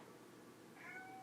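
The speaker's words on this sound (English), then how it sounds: "That's my cat." A domestic cat lets out a single faint, short meow toward the end of a quiet indoor moment, with no talking.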